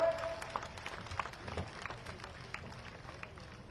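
A large outdoor crowd at a Madhya Pradesh political rally in Malanpur, Bhind district, claps in honour of the Chief Minister, a steady scattered patter with distant voices and clatter mixed in.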